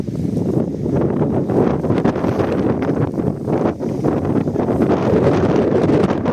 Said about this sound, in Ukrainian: Дуже-дуже сильний вітер